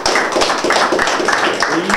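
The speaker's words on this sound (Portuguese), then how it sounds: "Pessoal, aplauso para o Sampaio, aplauso." A crowd at a live competition event in Brazil claps in a loud, close burst of rapid, uneven hand claps, with voices mixed in throughout.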